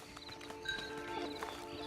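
Horse hooves in the Red Dead Redemption 2 video game clop faintly and unevenly under a steady tonal game soundtrack, quiet and somewhat distant.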